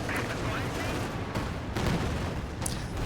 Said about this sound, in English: At least decent barrage from the Werfer